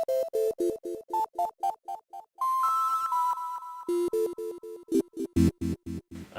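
Flat, unvarying 8-bit chiptune notes from the FamiSynth VST synth with key velocity off, a quick run of short square-wave blips at even loudness, one held tone in the middle, then more staccato notes ending in a denser chordal burst.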